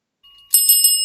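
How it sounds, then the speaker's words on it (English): A small bell rung by kittens reaching for a treat, starting after a short faint tone with three quick bright rings close by and loud, each ring left to linger, no voices. "if they ring the bell, they can get a treat"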